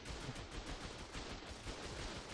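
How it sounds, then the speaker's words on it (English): Rapid automatic gunfire rattles continuously in an Ark PvP video game battle, a dense, steady burst of shots hitting the player without pause, no voices. "I'm getting shot because you moved."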